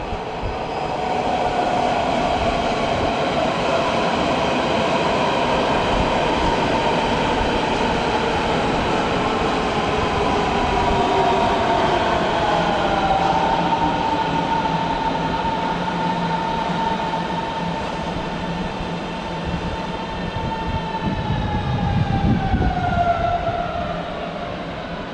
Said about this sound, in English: Got another S-Bahn train coming in.